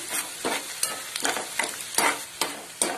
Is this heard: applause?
no